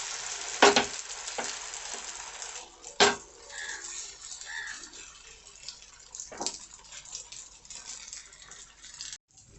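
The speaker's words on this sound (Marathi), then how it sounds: "आता तेल पण गरम झाले, त्यावर ना बॅटर घालू।" Egg batter hits a hot, oiled tawa for a bread omelette, giving soft sizzling with a couple of sharp clanks from the pan early on, fairly quiet and close, with no talking.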